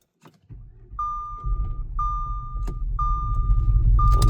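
A 2013 Audi Q7 with a supercharged 3.0T engine, some spark plugs removed, cranks and starts up; a low, rough engine rumble builds steadily while a high, steady warning chime beeps four times in an even rhythm.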